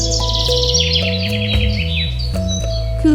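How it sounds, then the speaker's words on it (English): A myna's chirping calls ring out in quick bursts over loud, steady background music with a stepping tune. "Myna."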